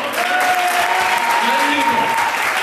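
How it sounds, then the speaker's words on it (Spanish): An audience at a youth talent and art awards ceremony applauds a prize winner in a continuous, even roar of clapping, with a faint tonal whistle or feedback line over it. "Sí, un aplauso."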